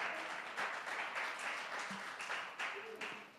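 Church congregation applauding at a preaching event, a moderate burst of many hands clapping at fairly even loudness, heard from some distance with faint voices beneath.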